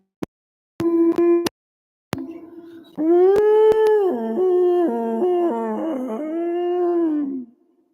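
A voice imitates a whale call, opening with a few short clipped tones, then swelling into a long sustained howl drawn down into the throat, its pitch bending and wavering before it fades out.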